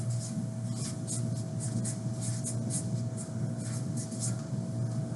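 Pen or marker writing a single word on a surface, a steady close scratching stroke sequence with a continuous hum underneath.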